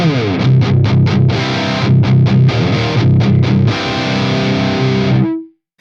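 Heavily distorted metal guitar through a Fractal AX8 with a 100 Hz low cut chugs palm-muted riffs with tight, trimmed low end, loud and driving, then rings out on a sustained chord before cutting off.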